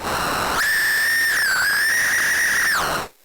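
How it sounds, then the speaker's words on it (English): A synthesizer filter's high, sustained feedback whistle rings out for a few seconds, wavering and bending in pitch before cutting off abruptly. "you can hear the feedback coming in"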